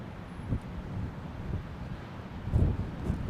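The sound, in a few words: wind blowing around the microphone on a blustery day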